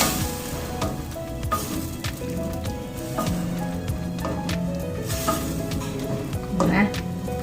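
Broth with tamarind and salt bubbles at a lively boil in a pot for daging masak habang, with close, continuous popping and simmering.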